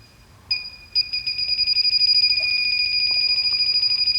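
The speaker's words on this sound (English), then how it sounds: "the beep frequency is going to accelerate" Electronic gas leak detector checking a steam boiler gas train, giving a steady two-tone beep that starts after a short pause and quickly settles into a rapid, accelerating pulse, close and clear over faint background hum.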